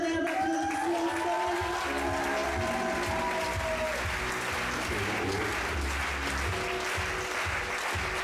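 An audience at an evening stage show breaks into sustained applause, a dense wash of clapping that keeps going for several seconds, with a voice briefly audible early on.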